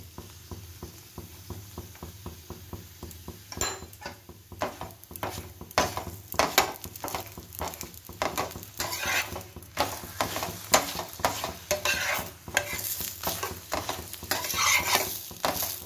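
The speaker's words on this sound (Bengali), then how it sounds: "এখন ফটাফট গরম গরম পরোটা ভেজে নিই।" Ghee paratha frying in a pan, with a steady sizzle under brisk scraping and stirring that grows busier and louder as it goes.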